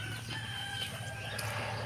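A hen clucks softly in short bursts against quiet farmyard background noise.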